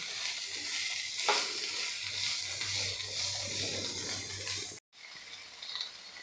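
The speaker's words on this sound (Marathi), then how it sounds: "एक दोन मिनटे आपण हे परतून घेणार आहे" Vegetables sauté in a pan with a soft continuous sizzle and occasional scraping stirs, with a brief dropout of sound near the end before the frying resumes.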